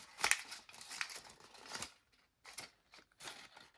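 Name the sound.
folding origami paper for a bunny basket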